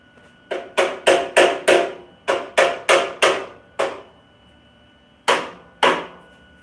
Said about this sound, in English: a claw hammer is not the correct utensil to use for bashing metal